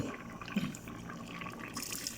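Cooked cowpeas are poured with their cooking water into a large pot of olan being made for an Onam sadya for 400 people, a soft continuous liquid pour with light splashes and a small plop near the middle, fairly quiet and close.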